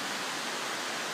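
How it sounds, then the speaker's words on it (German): Rust-en-Vrede waterfall, water dropping about 80 metres into a small valley basin, heard as a steady, unbroken broadband roar that fills the whole moment. "Hier kommt das Wasser etwa 80 Meter weit runter und wird in diesem kleinen Talbecken aufgefangen."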